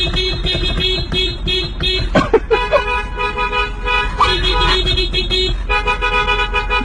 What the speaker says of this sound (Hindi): पीप का हॉर्न बजाते ही जा रहे हैं।